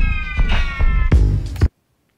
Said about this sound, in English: that's how to do the infamous tape start and stop effect inside of Ableton Live